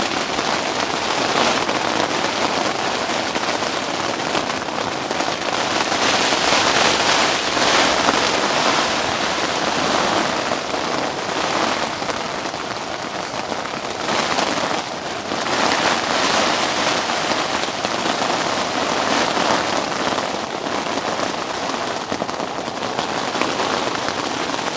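Heavy, constant rain drums on a giant umbrella at a camp shelter, a dense, steady roar that stays close and loud throughout with no talking.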